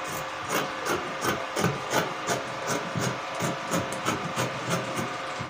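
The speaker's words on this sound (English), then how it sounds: "So just let me cut this other part out so you can get it clearer." Scissors snip repeatedly through fabric while a summer gown is cut out, a steady series of close, crisp rasping cuts with no talking.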